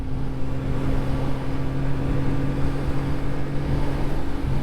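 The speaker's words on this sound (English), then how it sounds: "Engine sounds very good." A CF Moto 675SS sport motorcycle engine drones at a steady pitch while riding, an even hum with a strong low tone and constant wind rush, no speech.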